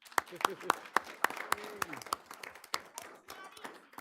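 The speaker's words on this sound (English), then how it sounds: "we should give her a round of applause" A small board of trustees audience claps for newly elected state representative Reggie Miller in a brief, uneven round of separate hand claps, fairly close, with some murmuring voices mixed in.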